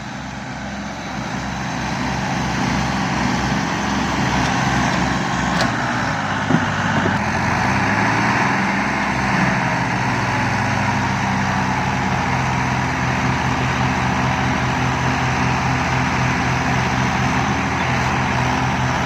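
Two tractors, a Mahindra 575 and a John Deere 5310, strain against each other in a tochan pulling contest, their engines making a loud, steady, low drone with a rhythmic throb that lasts throughout, with no speech.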